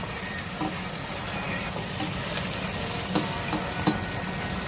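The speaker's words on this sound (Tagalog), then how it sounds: "Mix natin ng konti para maluto yung sibuyas." Chopped onions sizzle steadily in hot oil in a pan while being stirred, with a constant crackling hiss and a few soft scraping knocks from the spoon.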